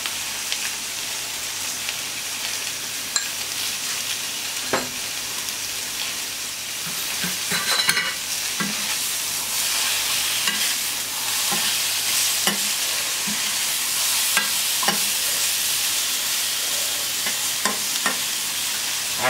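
Mushrooms with persillade sizzle and fry steadily in a pan, a continuous crackling hiss broken by occasional sharper pops and clinks of stirring.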